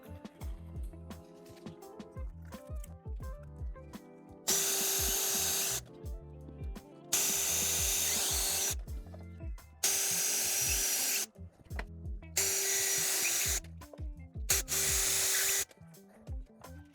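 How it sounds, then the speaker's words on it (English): A power drill bores pilot holes in F/A-18 replica cockpit side console panels for a flight simulator build: five loud, whining bursts of about a second and a half each, separated by quieter handling noises. "We're gonna drill all the center pilot holes, and then we're gonna drill them in."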